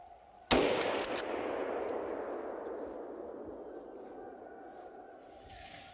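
A single sharp rifle shot at a running wild boar cracks out loud and close, then leaves a long ringing tail that fades slowly over several seconds.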